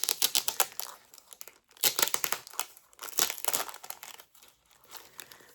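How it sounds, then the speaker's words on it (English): Packaging crinkles and rustles during the unboxing of a regular-size Traveler's Notebook, close and crisp, in irregular bursts of crumpling and tearing paper or plastic with short quiet gaps between them. "I'm not going to apologize for rustling and everything because, you expect that in an unboxing"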